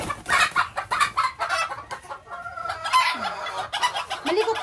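A white Kelso hen clucks and murmurs close by, with other chickens clucking and calling around her in a busy, continuous farmyard chatter that includes a few rising squawks.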